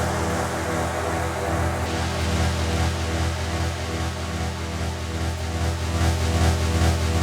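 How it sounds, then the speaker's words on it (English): A low droning synth in a dub techno mix, played dry without effects: a steady, dense sustained tone with slowly shifting harmonics. It is loud and continuous, with no voices. "So we have this low droning synth here."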